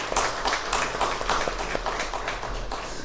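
An audience in a university chapel service applauds to thank the choir and orchestra, a steady wash of many hands clapping that holds at moderate loudness throughout.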